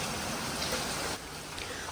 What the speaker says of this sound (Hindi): रात के वक्त एकदम अचानक से इतनी तेज़ बारिश शुरू हो गई